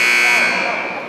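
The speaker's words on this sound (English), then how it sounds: "His shot is blocked by Palm as the buzzer expires on the shot clock" A shot clock buzzer sounds at a college basketball game between Hannibal-LaGrange and McKendree, a loud sustained electronic tone holding steady for about a second over arena crowd noise.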